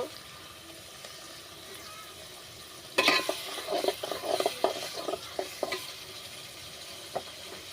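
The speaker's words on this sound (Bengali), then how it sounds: "আমার তেলটা গরম হয়ে গেছে এখানে পেঁয়াজ বাটাটা দিয়ে দিব" Onion paste is dropped into hot oil with bay leaf and garam masala for a chicken kofta curry, bursting into a sudden loud sizzle that settles into a crackling fry, broken by several sharp stirring knocks.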